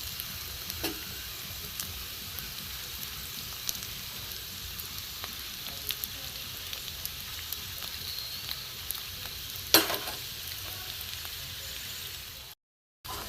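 Potato and egg parathas frying in a little oil on a pan, a steady soft sizzle filling the background with one brief louder scrape or clink near the end.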